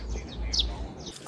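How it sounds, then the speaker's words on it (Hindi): A few faint, high bird chirps come through a quiet mountain-village background in Tosh, Himachal Pradesh, with a low rumble underneath. "कोई आवाज़ अगर यहाँ सुनाई दे रही थी तो वो थी सिर्फ चिड़ियाओं की आवाज़"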